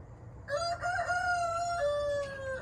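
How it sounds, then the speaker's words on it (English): Roosters crow on a spring morning at a quail farm, long sustained harmonic calls rising and holding for about two seconds, loud and fairly near, with no talking. "And the roosters?"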